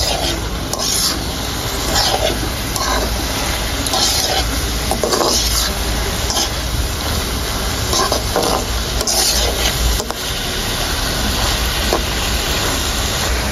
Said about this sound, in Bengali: সব মশলা দিয়ে শেষ, এখন ভালো করে মিশিয়ে নেব।